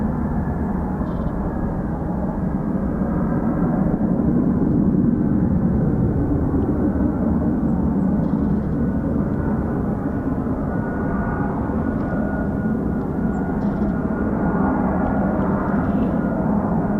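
An F-35B stealth fighter jet's engine roars as a loud, sustained, broadband rumble that holds steady throughout with no talking.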